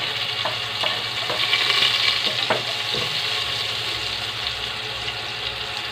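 Onion, garlic and ginger fry in a pan for chicken tinola, with a steady close sizzle and a few light stirring clicks scattered through, no talking.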